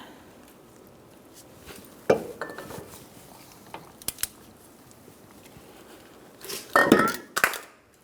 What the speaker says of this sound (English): We're going to torque this to 200 foot-pounds